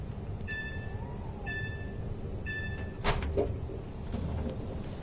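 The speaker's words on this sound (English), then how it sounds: "I like the door sounds." Three repeated electronic warning beeps followed by a train's sliding doors hissing and thudding shut, over a low rumbling hum, in Train Sim World 6.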